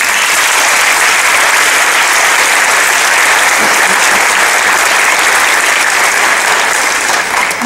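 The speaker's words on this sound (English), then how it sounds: "So I think we need to give their parents a round of applause." Audience applause at a high school AVID signing night ceremony: loud, dense clapping that is sustained and even throughout, with no pauses.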